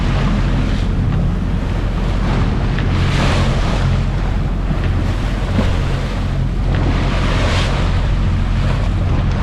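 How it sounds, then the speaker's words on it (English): Choppy, confused sea waves slosh and surge steadily around a sailboat, mixed with heavy wind buffeting close to the microphone, with no talking. "Wow, the seas are really confused here. Choppy seas. Very choppy."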